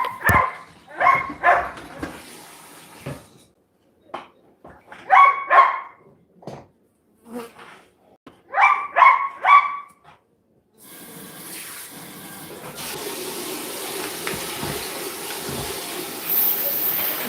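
Dogs barking in bursts of two or three quick, close, loud barks separated by pauses, followed by a steady rush of running water from a tap, with no voices.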